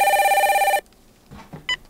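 A telephone rings with a loud, close electronic trill lasting under a second, then stops and leaves faint handling sounds.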